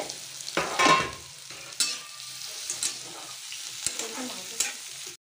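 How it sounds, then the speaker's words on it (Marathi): Carrots and capsicum stir-frying in a pan for hakka noodles, a soft close sizzle broken by several sharp scraping and clanking strokes of a spatula against the pan. "गाजर आणि शिमला मिरच सगळं आपल्याला फ्राय होऊ द्यायचं आहे"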